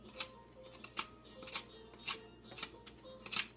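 A knife shaving the rough outer skin off a green sugar cane stalk, giving a series of short, crisp scraping strokes repeated every half second or so at close range, with no talking.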